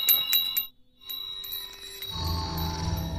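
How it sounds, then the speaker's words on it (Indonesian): A magic bell rings out loudly with a few sharp, bright strikes and a lingering metallic shimmer. A deep low rumble swells in beneath the ringing toward the end. "lonceng ajaibnya berbunyi dengan kencang"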